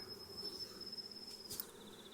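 Honeybees from a large swarm buzz around a medium brood box, a thin steady hum overlaid by a high insect whine, with a brief scrape partway through.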